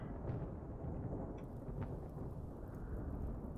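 In the video game RimWorld, thunder from a flash storm rolls as a low, continuous rumble under steady rain noise. It is faint and lasts a few seconds, with no voices.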